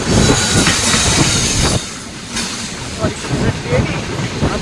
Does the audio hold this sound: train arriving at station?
yes